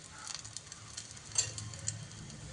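Lachha paratha frying in oil on a pan over medium gas, a soft continuous sizzle and crackle with small spattering pops, steady and close.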